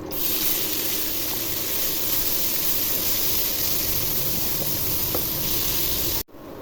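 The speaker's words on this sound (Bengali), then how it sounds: "তেল গরম হয়ে গেছে, এখন পেঁয়াজ কুচি দিয়ে ভেজে নিব।" Chopped onions fry in hot oil for hilsa fish bhuna, a dense, loud, steady hiss of sizzling close by that cuts off abruptly near the end.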